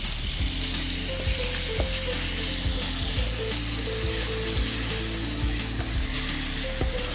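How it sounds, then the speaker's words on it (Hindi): Minced chicken frying with green chili in a pan: a loud, dense, continuous sizzle close up, with occasional knocks and scrapes of a spoon stirring through it. "अब हम डालेंगे उसमें अपना चिकन. That's minced chicken."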